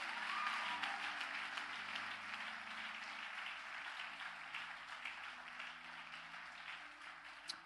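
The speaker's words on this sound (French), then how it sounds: "On peut acclamer le Seigneur pour l'équipe des chantres." A church congregation applauds the choir of chanters during a French-language service, a steady wash of many hands clapping at moderate distance that slowly tapers off, with no voices over it.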